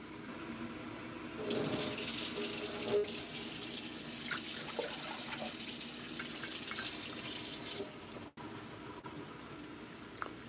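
Tap water runs steadily into a kitchen sink far from the main plumbing, a broad close hiss that surges in early, holds for several seconds with faint clinks, then cuts off abruptly near the end.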